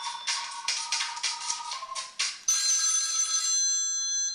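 An HTC Hero phone plays ringtones up close: a rapid bright ringing pattern of repeated bursts, then a switch to a different sustained electronic tone.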